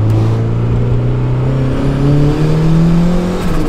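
A turbocharged Mazda Miata engine pulls hard in second gear from inside the car. Its loud, steady drone rises in pitch throughout, with a brief dip as the revs climb, and no one talks over it.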